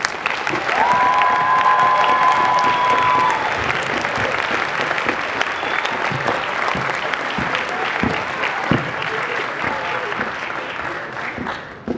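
Sustained applause from the audience at a high school senior debate, honoring the moderators, thick clapping that slowly thins with a brief whistle near the start.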